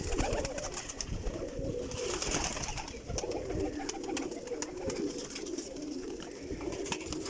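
Pigeons cooing nearby, soft low repeated coos over faint background noise with occasional rustles.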